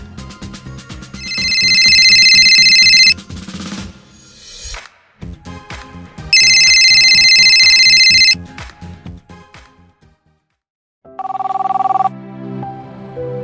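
A telephone bell rings in loud repeated bursts, with two long rings and a shorter third, over a domestic scene in a Marathi drama.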